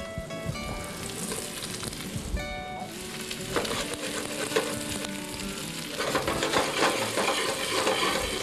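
Squash pieces sizzle in butter in a pot, frying steadily with stirring and scraping clinks and a few brief tonal utensil knocks.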